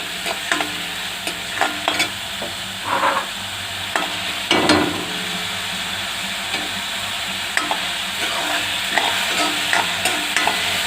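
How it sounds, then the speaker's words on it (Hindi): Whole spices fry in oil in a pan for an arbi leaf kadhi, with a continuous close sizzle and scattered crackles and stirring scrapes throughout, no voices. "इन मसालों को खुशबू आने तक फ्राई करना है।"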